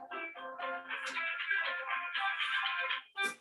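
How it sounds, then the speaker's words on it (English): A phone ringtone plays a bright, melodic electronic tune in quick repeated phrases, close and clear in an otherwise quiet room, breaking off briefly before one last burst. "Do you dance every time you hear the phone ring?"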